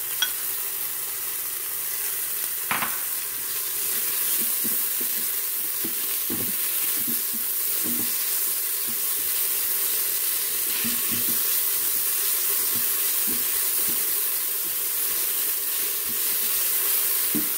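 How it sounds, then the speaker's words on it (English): Onion and garlic sautéing in an Instant Pot after curry leaves have spluttered, giving a steady low sizzle with faint scattered crackles and an occasional light clink, close and continuous with no talking. "And then in goes the onion and garlic. I'm going to saute this up."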